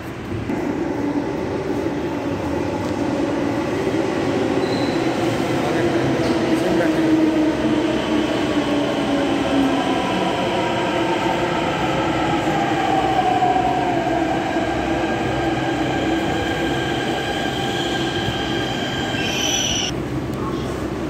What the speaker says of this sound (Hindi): मेट्रो प्लेटफार्म पर टिकट बना के आ गए, ट्रेन आने वाली है।